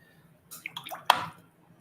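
A wet paintbrush adds water to a watercolour painting, making a short series of soft, close dabs and drips that end in one sharper wet tap, with no talking.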